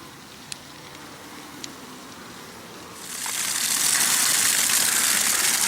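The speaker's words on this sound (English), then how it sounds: "let's flush out the carbon filter there first and we'll hook it up to the RV" Water rushes through an RV carbon water filter being flushed from a city water hookup, a steady broadband hiss that starts abruptly midway and holds loud to the end, after a few faint clicks.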